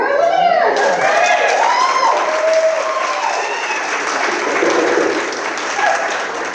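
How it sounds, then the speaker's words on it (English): Guests at the 2025 WOLF Media Festival awards banquet applaud an award winner in a loud, continuous round of clapping, with whoops and shouts rising over it early on. "can we have a round of applause for her?"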